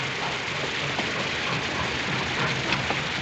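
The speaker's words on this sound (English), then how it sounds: "A little rainy, isn't it?" Steady rain falls continuously, a dense broadband hiss with occasional faint drips, no voices.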